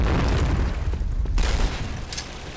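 Deep booming blast from a Point Blank clan match, with low rumbling energy filling the whole stretch and a couple of sharper pops near the end.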